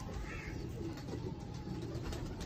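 A slatey kabootar pigeon coos softly in repeated low rounded notes, close by over a steady background hum, with no talk.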